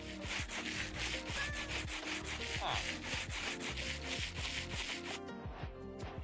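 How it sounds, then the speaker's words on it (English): Sanding items with sandpaper in a modded Minecraft game: a rapid series of rough wooden scraping strokes, loud and close, repeating steadily for several seconds before stopping abruptly. "Throw those on the floor, and then we can sandpaper them"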